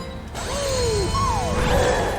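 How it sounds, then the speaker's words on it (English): Bowser's ominous arrival in Super Mario Galaxy 2 brings a menacing mechanical rumble with descending swooping tones, building louder over about two seconds, no talk. "What's that scary sound? Yep, you can't have a story without Bowser, because It's Bowser"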